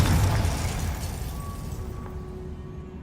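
A Confringo fire spell bursts in Hogwarts Legacy with a loud, booming explosion that rolls off and fades to quiet within a few seconds.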